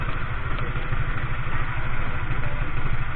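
A motorcycle engine idles close by, a steady low throbbing putter with even pulses and no other sounds over it.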